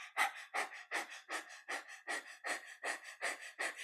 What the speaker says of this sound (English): We're sticking out the tongue and we're panting.